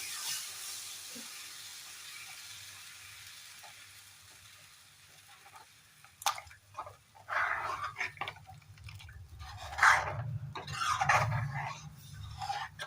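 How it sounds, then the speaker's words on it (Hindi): Water poured from a bowl into a yogurt mixture for kadhi, faint splashing and gurgling bursts that build in the second half of the clip over a low background hum. "अब मैं इसमें 4 कटोरी पानी डालती हूँ।"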